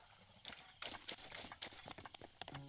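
Horse hooves clip-clopping in the video game Zelda Breath of the Wild, a quick uneven run of light clattering steps, faint, with a brief whinny near the end.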